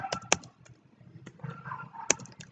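Keystrokes on a computer keyboard while C++ code is entered, a few sharp clicks and a loud tap amid softer irregular typing, close and quiet with no voice.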